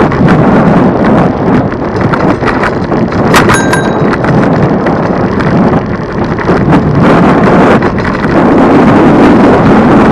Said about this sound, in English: Big twist of wind came down and a lot of acorns fell on the floor.